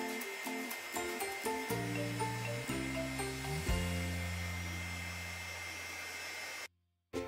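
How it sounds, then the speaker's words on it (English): A heat gun blows a steady, airy hiss as it cures polymer clay on a small custom pony figure, heard under background music before cutting off abruptly near the end. "Now we're going to use a heat gun to cure the clay."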